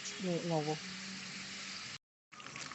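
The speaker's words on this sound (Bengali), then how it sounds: "চিকেনটা ভাজা হয়ে গেছে এবার হচ্ছে তুলে নিচ্ছি তেল থেকে" Steady broadband sizzle of chicken frying in hot oil, with a voice speaking over the start, a brief cut to silence, then the sizzling resumes.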